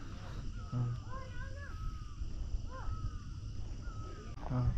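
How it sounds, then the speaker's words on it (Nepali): A crow-like bird gives several short, harsh calls from a hillside road near Nagarkot. The calls sound moderately close, repeated in a loose rhythm over a low background hum. "चरा कराको"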